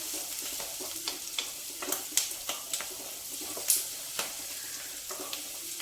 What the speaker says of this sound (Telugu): కరివేపాకు, ఇది కొంచెం వేగాలండి.